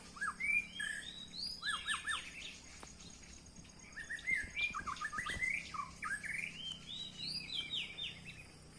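A wild binla songbird sings bright, rapid chirping phrases in repeated bursts, fairly faint and distant, over a soft hum of insects in the background.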